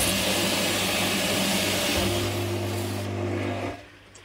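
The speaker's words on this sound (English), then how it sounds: "all that I do initially is simply give it a blast with a pressure washer" A pressure washer blasts a pond filter's Japanese matting with a loud, continuous close-up hiss and roar that cuts out near the end.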